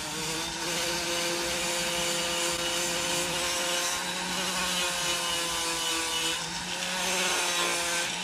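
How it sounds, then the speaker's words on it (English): A worn, homemade Scotch-Brite pad rubs against a wooden largemouth bass carving to deburr it, giving a steady, close whirring scrub with a faint tonal hum throughout. "it's just Scotch-Brite pad that I made"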